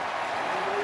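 Stadium crowd cheering after a Clemson touchdown at a college football game against NC State, a broad roaring wash of noise with no break.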